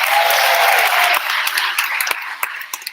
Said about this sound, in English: at the end maybe we can applaud for all of them together